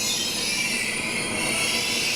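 Train wheels squealing on the rails during a ride in Beijing, a steady loud high-pitched screech over continuous rumbling running noise throughout, with no voices.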